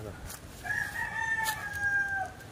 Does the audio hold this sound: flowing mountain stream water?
no